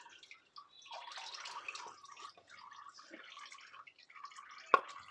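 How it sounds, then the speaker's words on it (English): Engine oil drips from the underside of a Vauxhall Astra G MK4 into a drip tray during servicing: faint, scattered close patters over several seconds, then one sharper, louder drip near the end, in a quiet setting. "you do lose a bit of oil at the bottom, so remember to put your drip tray there"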